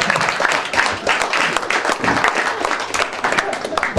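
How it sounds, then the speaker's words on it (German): Audience applause for a ventriloquist's comedy act after a kiss-sound bit, a dense burst of clapping lasting a few seconds with some voices mixed in. "Applaus für diese Lohneinlage."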